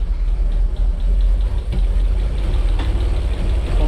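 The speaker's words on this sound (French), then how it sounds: "Pète à l'échappement." An Alfa Romeo 147 GTA engine with an ignition fault runs roughly and close by, a deep uneven rumble broken by irregular pops and knocks from the exhaust.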